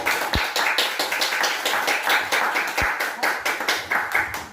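Audience clapping at a Korean church worship service, a steady patter of many hands with sharp transients across a fairly loud room, two deep thumps standing out near the start and later.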